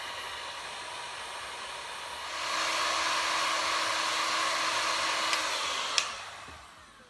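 A hair dryer on a moderate setting blows hot air to dry glue on a leather sofa repair, its steady whooshing roar starting after a couple of seconds, holding, then fading out, with a couple of small clicks.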